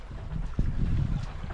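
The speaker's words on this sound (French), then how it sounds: "depuis une demi-heure le vent rentre un petit peu plus" Wind buffets a sailboat under way between the Bijagós islands with the engine off, a brief low rushing gust with rumbling microphone wind noise and a faint splash.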